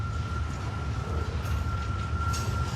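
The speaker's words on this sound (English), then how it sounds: "We got another train coming." A Norfolk Southern train at Horseshoe Curve outside Altoona, Pennsylvania, rolls past with a steady, heavy low rumble and a sustained high tonal whine, heard from a distance without talk.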